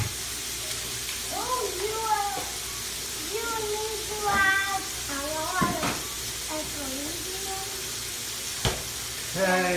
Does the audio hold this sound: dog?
no